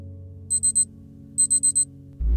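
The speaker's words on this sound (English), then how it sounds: "The alarm went off" An early-morning alarm clock beeps electronically in two bursts of four quick, evenly spaced tones against a quiet background, followed by a low thump at the very end.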